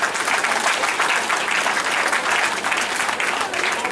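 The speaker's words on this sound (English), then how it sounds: "Please give him a round of applause" Sustained, loud applause from a convocation audience at Godfrey Okoye University, a thick, uniform roar of many hands clapping close by for the full few seconds.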